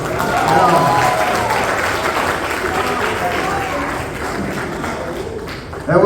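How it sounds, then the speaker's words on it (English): Church congregation applauds loudly at a morning worship service, a dense wash of clapping that starts strong and slowly fades over several seconds, with a few voices in the crowd. "Come on, let's give them a round of applause."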